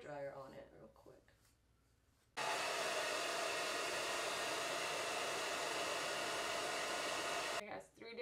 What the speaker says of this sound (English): I'm gonna use the hair dryer on it real quick.